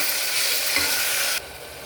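Onions fry in a pan as ginger garlic paste and mint paste are stirred in, a bright steady sizzle and hiss with scraping, and it cuts off sharply to a quieter background partway through.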